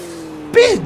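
A Volkswagen Golf with a swapped bi-turbo engine revs in Pixel Car Race, a short rising electronic engine whine that climbs then falls away after a brief lull, loud and close.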